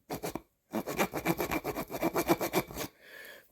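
An AITOR multi-blade pocket knife's saw blade cutting through wood, heard as a steady run of rhythmic rasping strokes, close and fairly loud, after a short opening burst and pause, with a quieter scratchy tail at the end.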